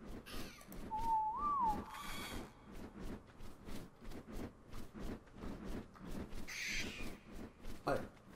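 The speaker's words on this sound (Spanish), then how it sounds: "Le silbo pasivo, que me siga." A short whistle command in the game ARK Scorched Earth, a brief rising-and-falling tone heard once, quiet under a voice talking and other in-game sounds.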